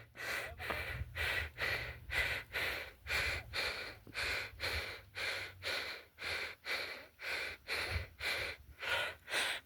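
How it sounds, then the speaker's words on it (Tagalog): Heavy, rapid panting after a strenuous climb, about twenty loud rhythmic breaths in and out close to the microphone, with faint low rumble underneath. "Grabe hingal ko mga idol."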